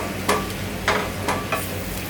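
Jaggery syrup heated over high flame in a kadai, stirred with a few soft scraping strokes at a slow, even rhythm over a faint steady hiss.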